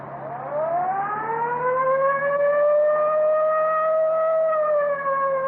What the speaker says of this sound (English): Yeah, I'll get the siren.